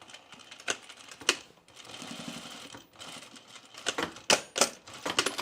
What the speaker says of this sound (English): I'm gonna pull this apart and just stitch that little bit there.